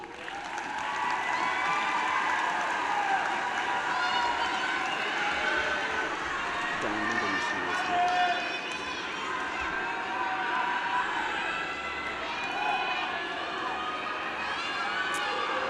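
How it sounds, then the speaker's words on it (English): A large crowd in the stands at a Pioneer High School commencement ceremony gives loud, sustained applause mixed with cheering and shouts, continuous throughout. "give your support system a huge round of applause"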